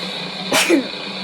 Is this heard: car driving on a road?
no